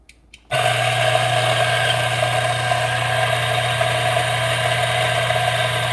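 A DF64 coffee grinder grinds espresso beans, starting abruptly after a short quiet moment, then running as a loud, steady mechanical whir with a constant motor hum for the rest of the clip.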